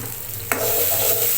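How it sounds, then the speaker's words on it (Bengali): A spice masala for raw jackfruit curry fries and is stirred in a pan, a steady close sizzle broken by one sharp scrape of the spoon midway. "ভালোভাবে কষিয়ে নিচ্ছি মশলাটা"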